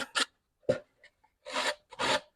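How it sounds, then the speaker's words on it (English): Slow, rasping strokes of sandpaper rubbing by hand across the wood of a soprano ukulele, a few separate passes with quiet gaps between them, close and fairly soft. "I think just some hand sanding ought to knock these little hairs off"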